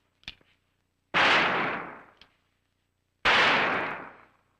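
Two loud, close gunshots, each a sharp crack ringing out for about a second, fired a couple of seconds apart during an experiment behind a sloth, with a few small clicks before and between them.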